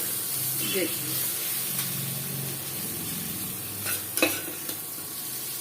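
Onions frying in a pan for a desi-style jackfruit curry give a steady sizzle with stirring scrapes and a few sharper clinks near the end, with faint voice-like murmur underneath.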